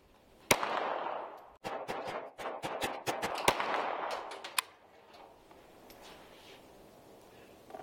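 A Sig Sauer P322 pistol fires a rapid, uneven string of about fifteen sharp cracks that echo slightly at a moderate distance, then the shooting stops.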